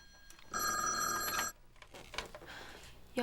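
An old telephone bell rings in one clear, bright, sustained burst of about a second, then stops, leaving faint room noise and small rustling sounds.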